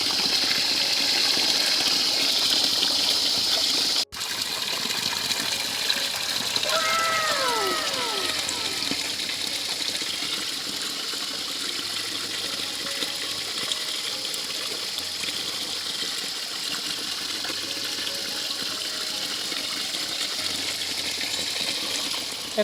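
A hose pours water steadily during work on a rural water supply line, a continuous broad gushing rush that runs throughout, with a brief drop-out near the start and faint sounds in the background.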